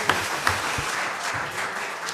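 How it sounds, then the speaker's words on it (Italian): An audience at a local governance forum session gives steady applause, many hands clapping at moderate distance in a continuous wash, with a few faint murmurs underneath. "Io proporrei anche un applauso"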